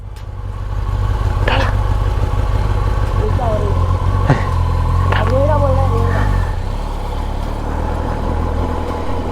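A motorcycle engine idles with a steady low rumble throughout, while several people talk over it.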